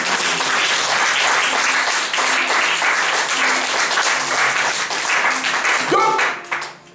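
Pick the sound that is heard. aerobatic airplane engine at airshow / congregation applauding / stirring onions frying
congregation applauding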